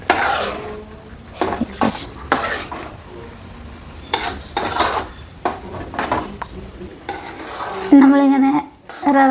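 A spoon scrapes and stirs rava semiya khichdi in a pan, breaking up lumps, in repeated bursts of scraping with metallic clinks, close and fairly loud, ending with a few sharp knocks against the pan.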